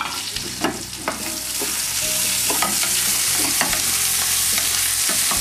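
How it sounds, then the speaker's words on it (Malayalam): Fried prawns with chilli sauce are stirred in a pan over a steady loud sizzle, with repeated close scraping strokes of the utensil against the pan. "നേരത്തെ നമ്മൾ ഫ്രൈ ചെയ്ത് വെച്ച prawns ഇതിലേക്ക് ഇട്ട് നന്നായി ഒന്ന് മിക്സ് ചെയ്യും."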